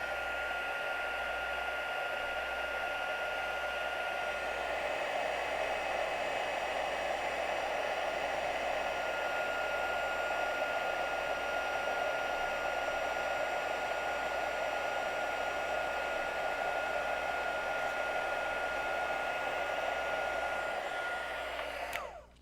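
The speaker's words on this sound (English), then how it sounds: "Let's grab the heat gun." A heat gun blows steadily on embossing powder on a handmade birthday card, a continuous close airy roar with a high whine that holds unchanged for over twenty seconds before cutting off.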